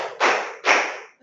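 Two sharp, close hand claps about half a second apart ring out during a counted clapping exercise in a classroom, each with a short decaying tail, and a third begins at the very end.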